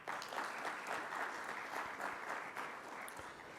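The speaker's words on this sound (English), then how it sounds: "Let's give our executive committee a round of applause." An audience at an annual conference gives a round of applause for the executive committee, with steady, fairly quiet clapping that lasts the whole stretch.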